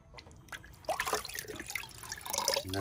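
Water runs and drips in a sink as a freshly cleaned nenue or aholehole fish is rinsed, with splashy trickling and irregular drips growing busier toward the end, close up with no talking.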